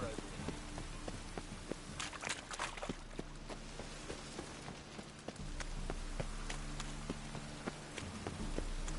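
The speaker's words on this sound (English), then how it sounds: "Looks like rain." Steady rain in the video game The Witcher 3: Wild Hunt patters on a surface, with scattered sharper drips and taps over a constant hiss; the rainfall thickens slightly partway through.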